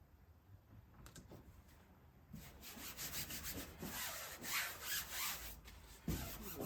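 A military marking decal is rubbed onto a scale model, first with a few light taps and scrapes, then a steady close-up scratchy rubbing that grows louder and continues in rapid back-and-forth strokes.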